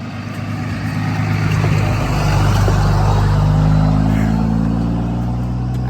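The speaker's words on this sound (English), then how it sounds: "I think that truck passed me the other day." A truck passes close by with a loud, rumbling engine that swells and holds for several seconds, with nothing else heard over it.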